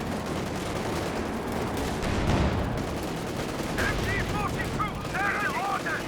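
Gunfire and grenade blasts from Company of Heroes 2 crackle in dense, continuous bursts with booming impacts, mixed loud throughout, while a voice talks over the battle.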